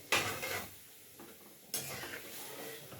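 Dry lentils (dal) pour into a cooking pot in two bursts, a rushing rattle near the start and another partway through, close and moderately loud with kitchen clatter between.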